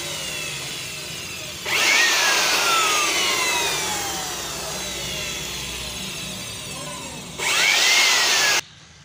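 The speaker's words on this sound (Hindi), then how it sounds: "ब्लोअर से इसे वाश करना जिस तरह मैं कर रहा हूँ" An air blower washes dust off computer parts such as RAM on a PC that beeps three times and will not power up, giving two loud close bursts of rushing air with a softer whooshing stretch between them.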